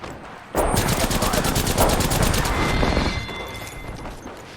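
Rapid automatic gunfire from the video game Valorant, a dense, loud burst of shots lasting a few seconds that fades into a short tail.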